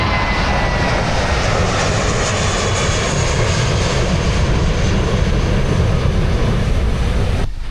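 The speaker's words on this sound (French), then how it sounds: "Il y a un avion qui vient juste d'atterrir." Engine of an airplane that has just landed at the airport in Phuket, Thailand, roaring steadily, a loud continuous broadband drone that holds for most of the clip before cutting off abruptly at the end.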